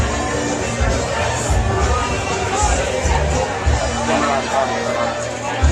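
A crowd of people chattering before a show, forming a dense, continuous babble of many voices at moderate volume, with no single speaker standing out.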